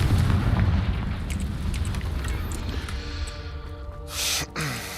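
Confringo fire spell in Hogwarts Legacy, a heavy rumbling explosion at the start settling into a sustained low roar, with a brief sharp whooshing burst near the end.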